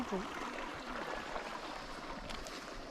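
Irrigation water diverted from a river flows steadily through a rural channel in the Philippine countryside, a continuous close rushing wash with faint voices briefly in the background.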